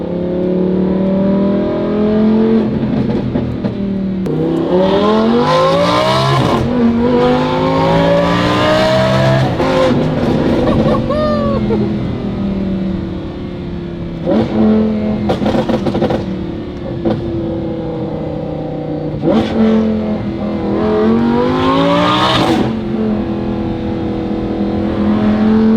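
A Lamborghini Huracán LP610-4 with a Valvetronic Designs exhaust revs repeatedly, its exhaust note climbing and falling in loud sweeps, close up, with brief pauses between pulls.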